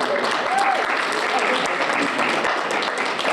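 Steady applause from an audience at a university Women's Day celebration honoring students, dense and continuous throughout, fairly loud with a faint voice briefly mixed in.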